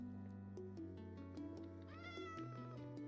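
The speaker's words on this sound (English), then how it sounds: "Oh, it's just a cat." A cat meows in a video game over a steady tonal music bed, its cries rising in pitch near the middle before fading back under the score.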